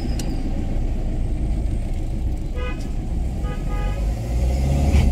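A car on a road up to a hill station, with a steady, loud engine rumble and tyre noise throughout and a couple of short horn toots partway through.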